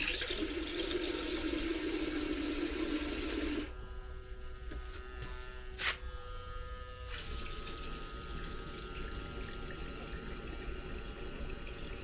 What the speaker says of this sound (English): I filled up the tank with the bucket of water so far